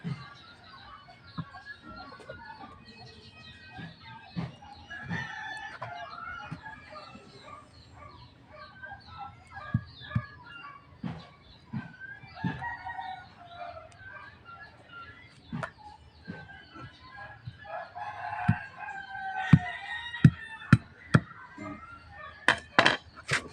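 Backyard chickens cluck steadily and close by while a rooster crows several times, with a few sharp taps and knocks from handling near the flock.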